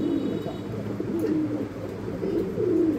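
A white Bombay male pigeon coos close by, repeating a low, throaty cooing phrase steadily over the whole stretch with no talk.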